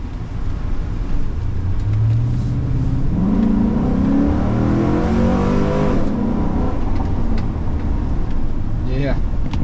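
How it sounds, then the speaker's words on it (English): A 2005 Chevrolet SSR with a 6-liter engine accelerates on a test drive, its engine note rising and swelling loudly while people talk over it inside the cabin. "the 6 liter, they move."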